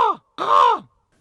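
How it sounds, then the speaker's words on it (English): A raven at Joshua Tree National Park gives two loud, hoarse croaking caws close by. The first is short and the second is longer and drawn out, with a brief silence between them and nothing else heard. "Words on screen. Raven."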